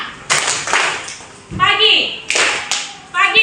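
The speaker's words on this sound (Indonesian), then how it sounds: "Kalau ibu bilang siang, tepuk tangannya 2 kali" A group of children clap their hands twice in quick succession in a classroom game, the two sharp claps ringing out loud between a teacher's spoken words.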